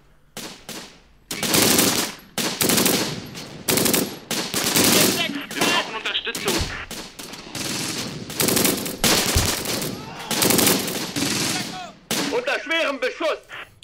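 Bursts of machine gun fire and explosions from a WWII tactical strategy game featuring a 12th SS motorized assault near Caen, loud and dense, with repeated rapid volleys over about fourteen seconds and brief pauses between them.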